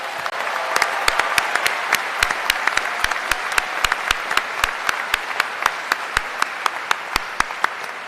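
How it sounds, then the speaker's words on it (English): Sustained audience applause at a university commencement ceremony, a dense steady wash of many hands with a few louder nearby claps standing out, continuing for several seconds with no talk over it. "Let's give them another round of applause."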